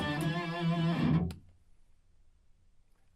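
A single sustained electric guitar chord through a Fender Mustang amp's Metal Octave effect, with a thick, doubled low octave and heavy saturation, rings out for about a second, then cuts off abruptly into near silence.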